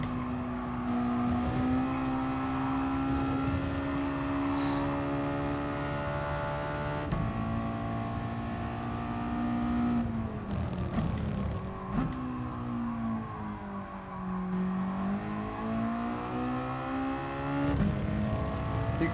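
McLaren F1 GTR Group 3 race car in GT Sport on the Tokyo Expressway East Outer Loop, its engine droning steadily at high revs with gear-change dips and rising pulls throughout, loud and continuous, without speech.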